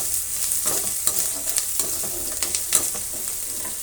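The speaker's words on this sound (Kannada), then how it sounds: "ಈಗ ನಾವು ಈರುಳ್ಳಿನ ಸ್ವಲ್ಪ ಚೆನ್ನಾಗಿ ಫ್ರೈ ಮಾಡೋಣ" Chopped onion fries with cut dried red chillies in a pan, giving a steady close sizzle broken by scraping stirs of a spoon against the pan.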